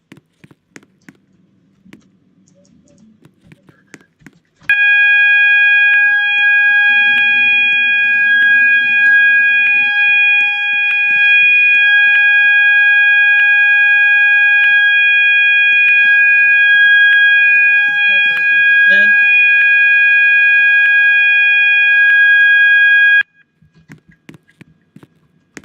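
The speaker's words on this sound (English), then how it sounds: "So now we're gonna walk over and pull the fire alarm." A building fire alarm blares a loud, steady electronic tone for about eighteen seconds after being pulled, then cuts off abruptly; faint rustling and movement sit before and after.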